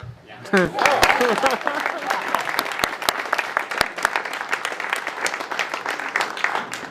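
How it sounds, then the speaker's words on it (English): Applause from an audience at a Q&A with a Cleveland director about his indie Superman film: dense, steady clapping that rises quickly and carries on for several seconds, with a voice briefly heard at the start. "That means clap."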